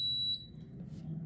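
A pressure cooker air fryer gives one short, high electronic beep as it starts up, followed by a faint low hum in a quiet room.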